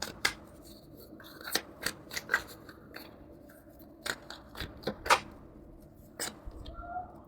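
Tarot cards shuffled and drawn during a love reading: a series of sharp, papery snaps and flicks in irregular bursts, close and fairly quiet, with short pauses between.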